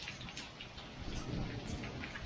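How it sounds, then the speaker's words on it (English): Small hailstones tinking on the fabric of an AYAMAYA 6-8 person family tent during a thunderstorm, a light scattered patter of taps mixed into steady rain noise, fairly close and continuous. "got a little bit of hail. Not a lot, but you can hear it tinking"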